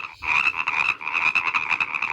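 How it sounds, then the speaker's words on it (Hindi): Female frog croaking close and loud, a continuous rapid pulsing trill with a strong buzzy tone, repeated steadily without any speech over it. "ये मेरे भाई इसको मेंढकी या डड्डी कहते हैं"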